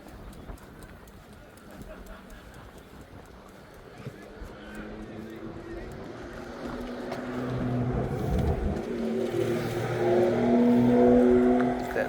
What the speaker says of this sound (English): Loud car again.